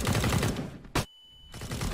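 Gunfire in Counter-Strike on the Dust 2 map, shots fired through walls: a dense burst of rapid shots, then a sharp single crack and a short quiet gap before firing resumes, with no talk over it.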